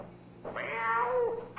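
A cat in the video game My Winter Car gives a single drawn-out meow, close and clear, lasting about a second.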